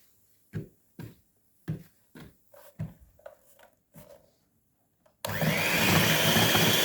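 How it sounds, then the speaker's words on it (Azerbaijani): Electric mixer blending pancake batter with vanilla, starting abruptly as a loud steady whir after several seconds of faint knocks and clatter. "Və bunların hamısını qarışdırırıq."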